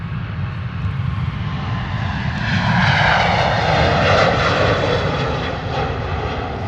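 A China Southern Boeing 777 jet airliner at London Stansted Airport gives a loud, sustained engine roar that swells slightly in the middle, heard alone without voices.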